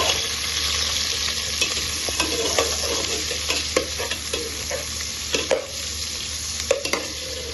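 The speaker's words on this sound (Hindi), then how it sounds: "ये गर्म हो जाए तो मैं इसमें प्याज डाल के उसको हल्का सा गुलाबी करूंगी" Sliced onions frying in about half a cup of hot oil for mutton pulao, a constant close crackling sizzle with occasional soft stirring scrapes, no voices.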